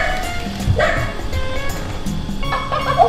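A Minnie Mouse Walk and Play toy puppy gives a few short, bright electronic yips and barks, fairly close and clear, with some room noise between them.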